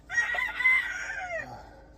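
A young Bantam rooster (stag) crows once, close and clear, a rising then trailing call lasting about a second and a half, fading into quiet.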